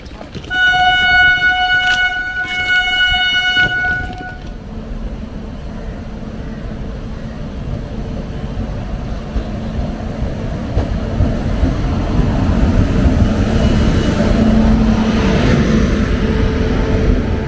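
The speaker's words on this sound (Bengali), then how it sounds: "অবশেষে ট্রেন ঢুকছে।" The Rourkela Intercity Express pulls into Koraput station, opening with a loud multi-tone horn blast in two pulses, then a rising rumble of wheels and carriages rolling close past the platform.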